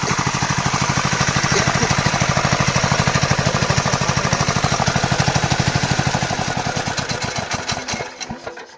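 A homemade water pump machine for watering a field, built onto a bicycle with loose nuts and rattling parts, chugs in a fast steady rhythmic thump close by, slowing and sputtering to a stop near the end.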